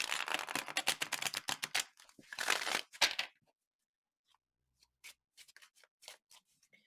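Tarot cards being shuffled, a dense run of rapid riffling and flicking slaps for about three seconds, followed by a few faint, scattered card taps and soft handling sounds in near silence.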